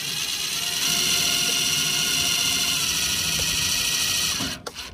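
A power drill drilling through metal on a truck whines steadily at high speed for several seconds, loud and close, then winds down and stops.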